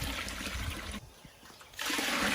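Water is poured from a pan into a large jambalaya pot, a splashing gush that pauses briefly midway and then returns stronger, close and fairly loud.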